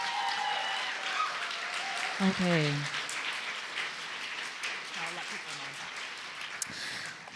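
Audience applause at a community book launch and talk on environmental racism, honoring a speaker, a steady rain-like wash of clapping throughout with a brief spoken word partway through.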